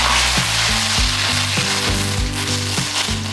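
Curry leaves hit hot oil already holding spluttered mustard seeds and red chillies, giving a loud, close, crackling sizzle with repeated rhythmic scrapes and knocks of a spoon stirring in the pan.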